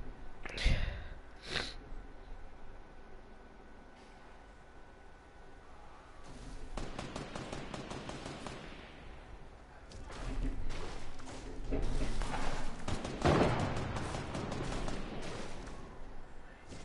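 Gunfire in a video game: sharp shots near the start, then a longer stretch of rapid, dense bursts that build in loudness toward the end, with no talking.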